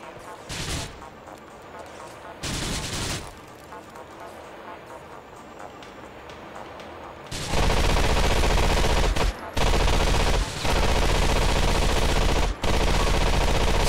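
Sustained automatic gunfire in GTA 4: The Ballad of Gay Tony, loud dense bursts from about the halfway point with short gaps, preceded by quieter intermittent shots and game ambience; voices occasionally present.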